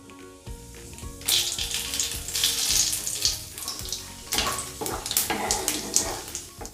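Cumin seeds and bay leaves sizzle in hot oil in a kadai, a steady bright crackle that jumps louder as the spices hit the oil, with brief clinks of utensils underneath.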